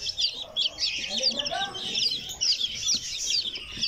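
Newly hatched Polish and Cornish chicks peeping in an incubator, a dense, continuous chorus of high chirps close by with faint clucking underneath.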